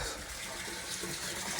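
Water pours steadily from a tap into a swimming pool, producing a continuous, even gushing hiss with no pauses.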